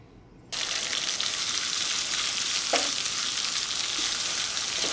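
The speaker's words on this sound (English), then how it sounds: "I'm making some roux here for the wax bean." Roux of flour and fat frying in a pan for Hungarian creamy yellow wax beans, a steady broadband sizzle starting abruptly after a quiet half second and holding loud and even, with one brief scrape partway through.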